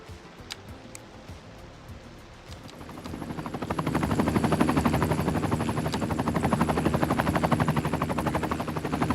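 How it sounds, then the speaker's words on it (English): A helicopter in the city-building game Cities: Skylines 2 builds from a faint background hum into a loud, steady rotor chop with a fast pulsing beat that continues to the end. "I don't even see the helicopter."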